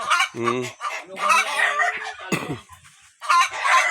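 A rooster crows nearby, with clucking chickens around it and a brief burst of other farmyard noise, no talk over it.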